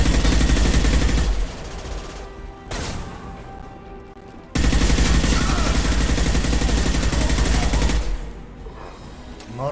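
Dense, loud automatic gunfire from the video game Mass Effect 2, sustained bursts that cut out briefly and then resume, with the continuous rattle of rapid shots and impacts.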